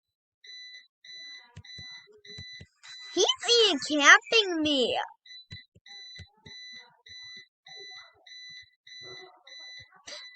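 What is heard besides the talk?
beeping in the background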